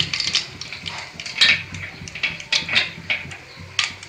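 Mustard seeds dropped into hot oil in a pan crackle and pop in scattered bursts, sharp bright spatters recurring unevenly at close range.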